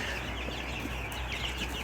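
Meat chicks chirp and peep together in a brooder, a dense, steady chorus of small bird calls over a constant low hum, with no talking.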